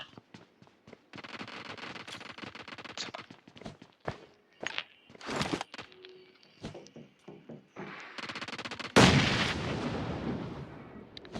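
Gunshots in a video game ring out as scattered loud cracks and thuds over a steady background hum, ending in a heavy, dense burst of fire near the end.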